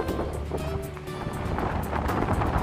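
Gale-force wind buffets the seaside promenade at Cromer, Norfolk, in August, roaring and gusting steadily into the microphone, with surf faintly beneath.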